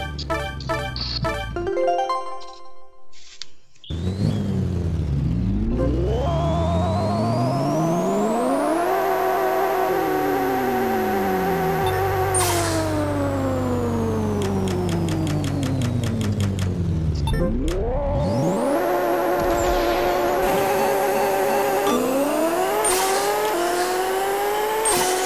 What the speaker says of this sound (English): It's an extremely fast car, extremely powerful car.